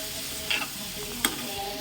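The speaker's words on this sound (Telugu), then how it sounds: "మేము ఫ్రై చేసుకునేది చూడండి." Freshly ground ginger-garlic paste frying in a pan gives a steady, close sizzle, broken by two brief scraping stirs.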